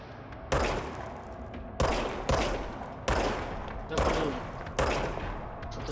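Gunshots from a gun in the video game Control ring out one by one, about six heavy blasts with echoing tails spaced roughly a second apart, loud and close.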